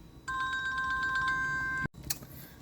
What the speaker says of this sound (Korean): 갑자기 전화가 왔고 중간에 흐름이 끊겼는데